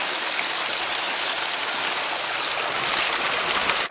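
Steady rushing water pours through a high-flow sluice lined with a silicone mat, set at about nine degrees, a dense continuous wash close by with no talk.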